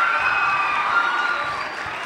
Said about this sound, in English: Mr. Matt Savage. We can give him a round of applause.